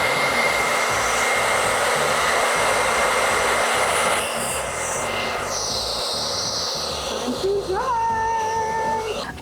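A hair dryer blows steadily and loudly while drying a pink-dyed wig, a constant close whoosh that shifts slightly midway, with a cat meowing near the end.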